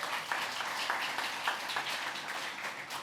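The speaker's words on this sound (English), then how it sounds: "give her a big round of applause" A conference audience at a PyData Amsterdam talk claps steadily for a few seconds, a dense, even wash of applause with no talking.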